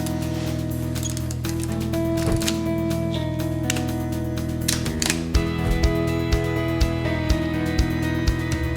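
A camera shutter fired with a cable release, the mirror left down, on a tripod: several crisp mechanical clicks and snaps, close and loud over a steady background hum.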